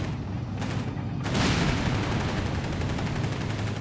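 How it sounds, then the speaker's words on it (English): A Panther tank in Company of Heroes 3 fires its main gun and machine gun in a dense, continuous roar of battle noise with booming blasts and rattling fire, loud and without pause. "Rolling in, letting loose of the main gun and machine gun."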